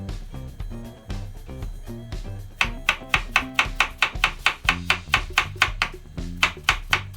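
A knife chops carrots steadily on a board, a rapid series of crisp, evenly spaced cuts, close and fairly loud, with a soft low hum underneath.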